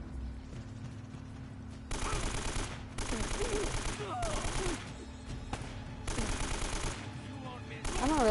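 Bursts of automatic gunfire in the video game Uncharted: Drake's Fortune, several loud rapid-fire volleys separated by short pauses, with a background game soundtrack and faint voices.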